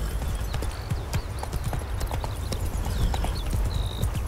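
Horse hooves clip-clop at a steady trot in The Witcher video game, loud and close, with a continuous rumbling bed and a brief high tonal sound near the end.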